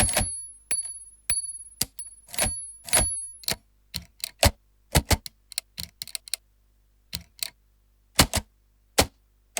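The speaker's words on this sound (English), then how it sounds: "So you got typewriter, computer keyboard." Typewriter and computer keyboard sound effects from a free VST plugin: crisp, close key clacks, first in a steady rhythm with a ringing bell-like tone, then scattered irregular taps with silence between.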